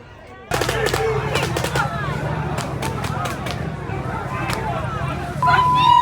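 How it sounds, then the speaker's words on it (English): Police fire paintball guns at protesters during a downtown Los Angeles protest, sharp pops cracking intermittently over steady crowd noise and shouting voices, with a tonal whistle near the end. "Now they're using paintball guns."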